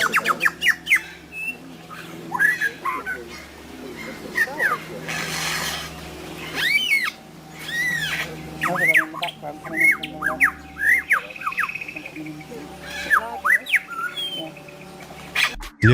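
Lyrebird pouring out a varied stream of mimicked calls: squawks, rising whistles, chirps and warbles in quick irregular bursts, fairly close and loud over a steady low background hum.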